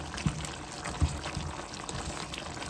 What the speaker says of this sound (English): I don't want to put a lot of water in at a time, so it can get a good cook